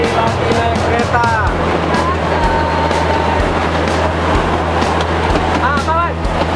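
A mini train ride in a mall rumbles along with a steady mechanical hum and rhythmic clacking, while people talk and children chatter over it throughout.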